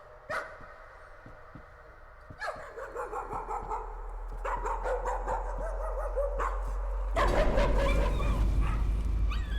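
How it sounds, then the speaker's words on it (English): A dog barks and yelps repeatedly in the horror video game Layers of Fear, close and sharp at first, then over a rising, rumbling ambient drone that grows louder toward the end. "There's a dog."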